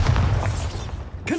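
A Bombarda blasting spell in the Hogwarts Legacy video game goes off as a single deep, booming explosion, loud and close, with a rumble that fades over about a second.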